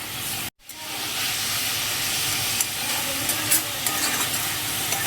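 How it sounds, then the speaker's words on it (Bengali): Finely chopped tomatoes hiss and sizzle steadily in a hot pan for mutton keema. A brief cutout near the start is followed by a constant close frying crackle, with occasional faint stirring ticks. "আমি টমেটো একদম মিহি করে কেটে রেখেছি, দিয়ে দিচ্ছি।"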